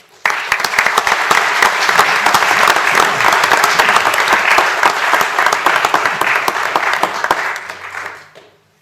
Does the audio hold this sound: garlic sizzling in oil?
no